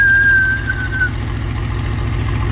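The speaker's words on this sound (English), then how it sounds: "You can hear the turbos." Idling turbocharged AMG engine with a low steady rumble and a thin, high turbo whine that falls away after about a second, heard up close with no talking.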